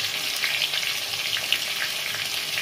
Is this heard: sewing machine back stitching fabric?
no